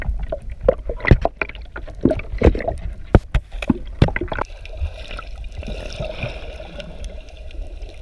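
A sailing boat motors quickly through the water with no vibration, water rushing and gurgling along the hull, broken by a few sharp knocks in the first half, then a steady hiss of engine and wash.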